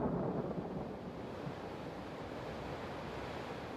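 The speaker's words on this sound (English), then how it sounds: "a severe storm blew up over the channel on the 19th" A severe storm over the English Channel brings heavy surf and wind in a dense, roaring wash, loudest at the start, then holding steady and constant with no voices.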